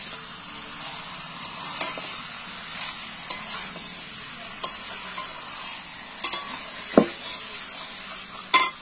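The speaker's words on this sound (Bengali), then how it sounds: "ফের আমি উনুনে কড়া বসিয়ে দিয়ে এইবার আমি নাড়াচাড়া করে নিই। মাংসটাকে নেড়ে কষিয়ে নেব।" Chicken pieces stirred and sautéed in a kadai over the stove, a continuous sizzle punctuated by regular metal spatula scrapes and clinks against the pan.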